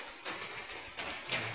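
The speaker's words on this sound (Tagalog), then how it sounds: "Ito, napakalakas ng ulan. Tuloy-tuloy ang ulan." Heavy, steady rain pours down in an outdoor setting, a dense continuous patter with brief louder surges of drops, no voices.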